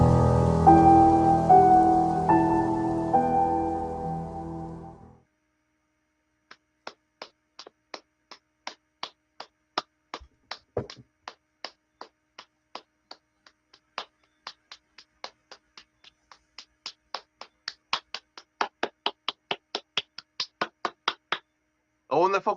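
Rhythmic hand clapping at a Nevis talk show, steady individual claps gradually quickening and growing louder after a spoken passage, near and fairly crisp.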